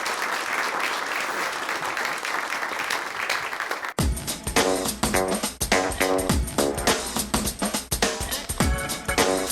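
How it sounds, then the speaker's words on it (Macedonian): A comedy show audience breaks into loud applause about four seconds in. Dense clapping continues steadily to the end, with faint crowd noise before it. "Аплауз за Васе!"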